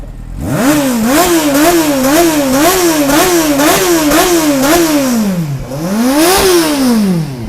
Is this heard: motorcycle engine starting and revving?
yes